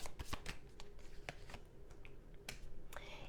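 A deck of tarot cards is shuffled for a reading: a dense run of crisp, close flicks and riffling slaps, steady and busy throughout, with sharper snaps near the start and end and no voice.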